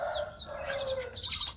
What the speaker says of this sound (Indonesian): Kenalin, ini jalak kebo saya,